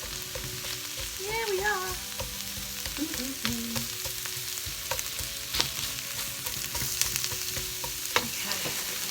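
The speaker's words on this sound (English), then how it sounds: "Get our special wand and let's start giving it a bit of a stir, innit?" A plant-based breakfast with fresh coriander sizzles steadily in a frying pan as it is stirred, with soft scraping clicks over the constant hiss and a brief spoken remark.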